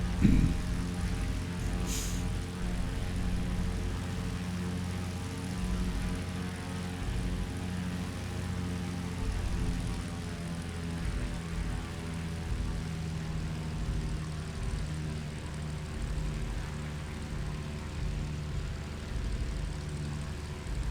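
Simulated Morane-Saulnier MS733 piston engine in Microsoft Flight Simulator 2020 drones steadily at a loud, even idle with layered humming tones, a continuous propeller-aircraft rumble without pauses.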